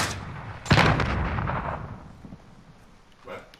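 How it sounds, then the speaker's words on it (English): A flashbang grenade goes off in a shooter video game, a sharp blast followed by a fading rumble, with a second smaller burst near the end. "Flash bang out."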